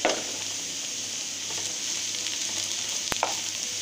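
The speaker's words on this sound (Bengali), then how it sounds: "হালকা নেড়ে চেড়ে মানে এটাকে চারো সাইডটা আমি তেল আর ভাজা রসুন পেঁয়াজগুলো আমি মিশিয়ে দিচ্ছি" Garlic and onion frying in oil while being stirred, for an ilish (hilsa) korma: a steady close sizzle throughout with a few faint scrapes of stirring and one sharp utensil tap near the end.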